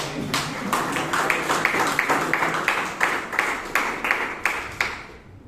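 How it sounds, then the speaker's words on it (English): Rhythmic clapping at a Toastmasters meeting in Bangalore, sharp evenly spaced claps about twice a second over a thinner bed of scattered applause, fairly close and steady throughout. "I think she deserves a round of applause"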